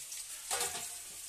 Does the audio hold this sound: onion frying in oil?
yes